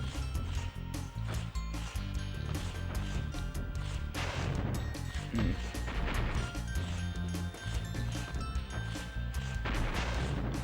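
Repeated booming blasts from bombs in the Spyro 2 video game, sounding as a dense run of loud, punchy explosions over game music and thuds, continuing steadily and close up.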